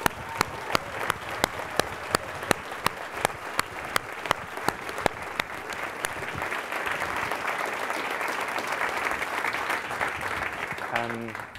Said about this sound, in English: a round of applause for like their help as well